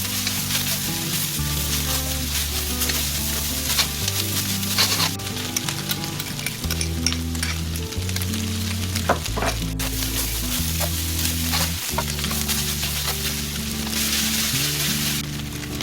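Hakka noodles stir-fried in a pan Kolkata chow mein style, a continuous bright sizzle with occasional tossing and scraping, set under steady background music with no talking.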